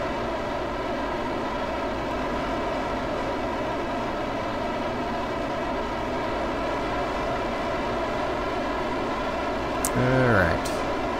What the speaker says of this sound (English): God, those engines are loud.